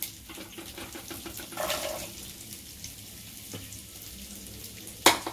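Carrots going into hot oil for chili chicken, a soft hissing fry that swells briefly as they hit the pan, with a few light clinks and a sharp knock near the end.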